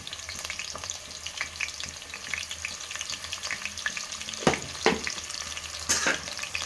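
Onions and green chillies fry with a pinch of salt in a pan for mutton curry, crackling and popping steadily at close range, with a few louder spoon scrapes toward the end.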